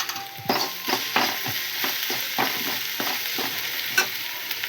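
Okra fries with peanuts, garlic, turmeric and salt in a pan. A spoon scrapes and stirs in repeated strokes over a steady close sizzle, with no voices.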